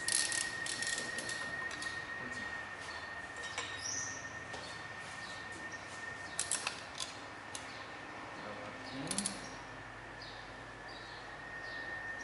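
Torque wrench tightening bolts on a BMW N20 engine, giving faint scattered ratcheting clicks and metallic ticks over a quiet background hum, with no speech.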